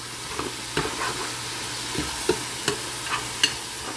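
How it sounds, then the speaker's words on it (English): Chicken meat sautés in a pot for chicken macaroni soup as a spoon stirs and scrapes it in a loose, repeated rhythm over a constant low sizzle. "just simply saute the meat for at least 2 to 3 minutes"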